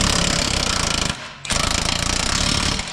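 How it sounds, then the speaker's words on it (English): A power tool winds a seized subframe bolt on a Ford Transit in and out of its captive nut, a loud rapid hammering rattle up close. It stops briefly and then starts again. "what I like to do is wind them in and out, in and out, in and out, so you're cleaning that thread in the captive nut in the subframe"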